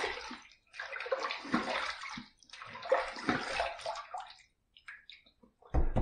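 Tap water running in bursts while a Windsor Pro safety razor is rinsed, splashing close by in several pulses separated by brief quiet gaps, with a final burst at the end.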